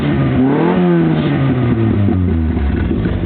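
Engine of a VW Fox with its exhaust valve opened, revving loud and close with a deep, throaty roar whose pitch rises and then falls back, continuous and without talk.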